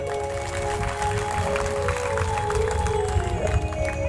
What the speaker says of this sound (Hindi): एक बार माताएं अपने लिए ताली बजा लो।